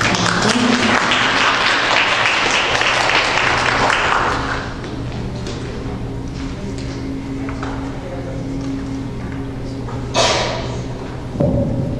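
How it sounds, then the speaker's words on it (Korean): Loud applause from a seminar audience fills the first few seconds, then fades into quieter scattered clapping and room noise, with a couple of thumps near the end. "박수 맞춰주시기 바랍니다."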